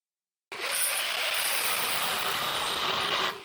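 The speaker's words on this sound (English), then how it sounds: "A grinder makes short work of cutting off the perches." Angle grinder cutting through spring perches on a 14-bolt truck axle, a loud, steady, harsh metallic whine that starts abruptly and runs for about three seconds before cutting off.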